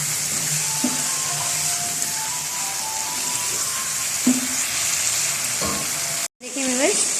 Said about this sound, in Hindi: आधा किलो चिकन हम इसके अंदर भून लेते हैं।